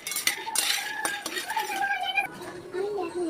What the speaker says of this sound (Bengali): এই মাখানাগুলো নাড়তে থাকতে হবে, তাহলে ওই ক্রাঞ্চি মানে মচমচা ভাবটা আসবে।